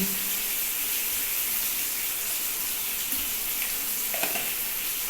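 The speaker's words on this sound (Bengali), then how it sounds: "হলুদটা দিয়ে মশলা আলুটাকে একটু লাল লাল করে ভাজতে হবে" Potatoes frying with turmeric and salt in a pan give off a steady, dense sizzle that stays close and even throughout, with no voices over it.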